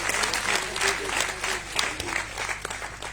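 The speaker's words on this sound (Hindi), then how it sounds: "इसके लिए जोरदार तालियां होनी चाहिए।" An audience at an ashram bhoomi pujan ceremony claps in a steady, lively round of applause that swells and dips slightly throughout, with a low hum beneath it.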